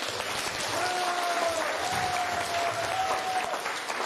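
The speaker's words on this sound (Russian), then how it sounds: "Давайте всем похлопаем." A congregation claps steadily at a church Christmas Sunday service, a warm continuous wash of applause lasting several seconds, with a sustained tone running faintly underneath.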